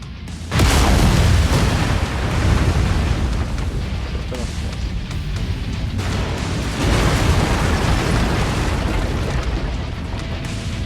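A generator blows up in a video game. A sudden loud boom is followed by a long roaring, crackling rumble of debris and fire that swells again midway.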